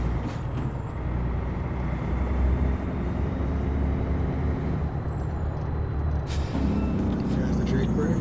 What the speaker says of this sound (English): There's the jake brake. Sounds good as ever.